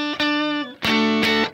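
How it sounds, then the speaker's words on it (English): Electric guitar through a POG octave pedal, two ringing chords in succession, the second fuller and louder, close and with no other sound. "And then with the POG, it sounds like this."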